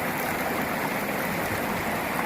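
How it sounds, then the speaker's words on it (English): A gold pan is shaken hard side to side in water while digging a pay streak, giving a steady broadband wash and slosh of water and gravel with no pauses throughout. "So just a nice hard side-to-side shuffle and bring it to rest underneath the very first ripple"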